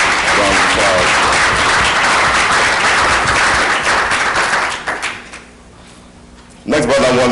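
An audience at a panel discussion breaks into loud, dense applause that carries on for about five seconds, then fades to near quiet before a voice starts talking.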